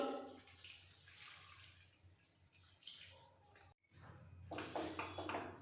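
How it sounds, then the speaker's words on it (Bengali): Hot water splashes and trickles onto finely chopped half cabbage with a pinch of salt in a bowl, a steady watery pour with a brief pause, then louder gurgling splashes. "এবার এর মধ্যে দিয়ে দেবো এক পিঞ্চ মতো নুন আর বেশ খানিকটা গরম জল"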